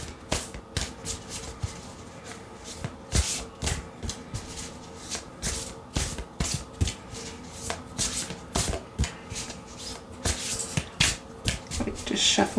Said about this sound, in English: Just shuffling until something pops out.